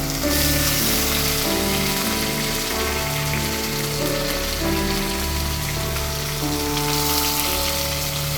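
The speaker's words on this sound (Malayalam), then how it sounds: "ഇതിനകത്ത് ഞാൻ ആദ്യം കുറച്ച് ഈ പൊട്ടറ്റോ ഉപ്പിട്ട് വെച്ചിരിക്കുന്നത് അതൊന്ന് മൊരിയണം." Salted potatoes fry in a pan of hot oil, giving a dense, steady crackling sizzle that stays loud and close throughout with no talk over it.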